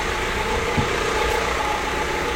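A Honda Jazz engine running steadily right after being jump-started from a dead battery, a close, continuous idle rumble with no pause or cranking heard.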